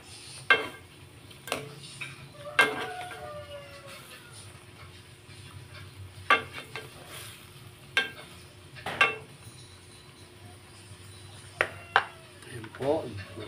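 Eggs are mixed with broth in a cooking pan, with repeated sharp metallic clinks and scrapes of a utensil against the pan over a low sizzle. A voice speaks between the strokes.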